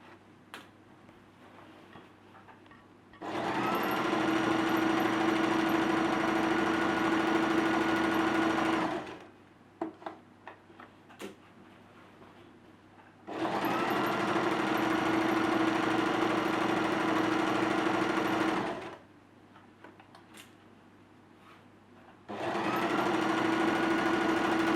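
A sewing machine stitches a dress fabric seam in three long, steady bursts of loud motor hum and needle clatter, separated by quiet gaps with small handling clicks.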